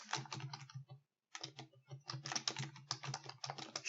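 Rapid keystrokes on a computer keyboard while entering figures into an Excel spreadsheet, clicking in quick close bursts with one brief pause before the typing resumes.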